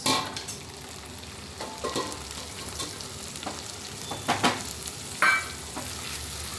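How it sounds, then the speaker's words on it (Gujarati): Onions and garlic sizzle and fry steadily in a pan for paneer bhurji, with a few louder stirring scrapes and clatters breaking through the continuous hiss; no voices. "હવે થોડી ઓનિયનને વ્હાઈટ કલર જેવું થઈ જાય ને એનું ત્યાં સુધી આપણે એને સોતે કરીશું"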